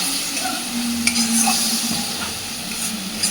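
Spices, mustard and salt being stirred in a pan for a fish curry, with a close, continuous sizzle and faint scraping stirs throughout.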